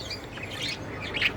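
Pet budgerigars chirp at home, with a few bright, quick tweets and squawks scattered over a soft background, fairly close and with no talking.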